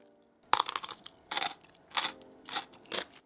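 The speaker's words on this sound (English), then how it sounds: "My weird food combination gonna be dill pickles with spice bun." Close, crisp crunching bites and chewing of whole dill pickles eaten with Jamaican spice bun, five distinct crunchy bursts at a steady pace with quiet between.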